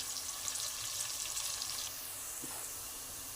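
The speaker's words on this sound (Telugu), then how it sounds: "సన్నగా తరిగిన రెండు చిన్న ఎర్రగడ్డలని ఇందులో వేసుకుందాం రెడ్ కలర్ షేడ్ వచ్చేదాకా బాగా ఫ్రై చేసుకుందాం" Two small thinly chopped red onions frying in a pan for spicy Nellore farm chicken fry, a steady close hiss of sizzling oil that eases slightly partway through, with a faint stir.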